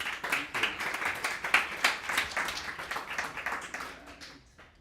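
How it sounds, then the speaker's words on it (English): A small audience at a UX Beers meetup in Antwerp claps for a speaker, a dense, fairly close round of applause that swells early and fades out toward the end. "Please give him a warm round of applause."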